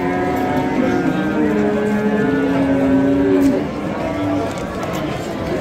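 Cattle at the Friday livestock market in Pastdarg'om, Samarkand, where cows with calves and pregnant heifers are sold, give a long drawn-out moo over steady market bustle and people talking nearby.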